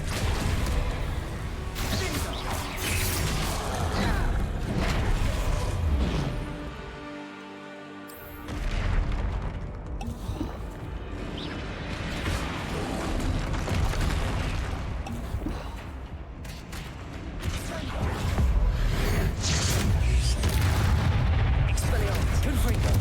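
Confringo blasting spell explosions in the video game Hogwarts Legacy: repeated loud booms and crashing blasts over a dense battle mix with whooshes and spoken spell calls, plus a brief quieter gap partway through.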